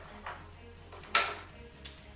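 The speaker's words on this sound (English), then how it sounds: "we're going to drop a couple of ice cubes in here." A couple of ice cubes dropped into a glass, a few faint separate clinks and one sharper bright knock, close and quiet with no talk.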